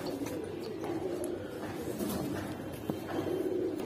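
Giribaj pigeon, a large cock with a cumin-coloured neck, cooing in a loft among other pigeons, with low, steady murmuring coos under a faint voice and background bustle.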